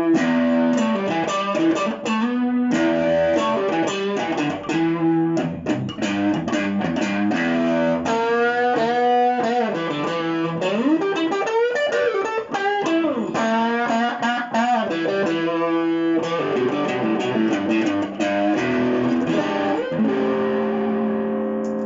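An Epiphone Riviera Custom P93 semi-hollow electric guitar, a wine red limited edition, is played through distortion or overdrive, giving sustained driven chords and melodic lines that ring loud and continuous for the whole stretch, with no talking.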